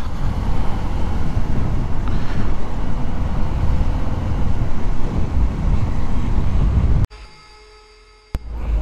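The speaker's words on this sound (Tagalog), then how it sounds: "Tapos ito mga truck." Heavy trucks roll past on a road in Manila, a loud continuous rumble of engines and tires that drops away abruptly near the end before traffic noise returns.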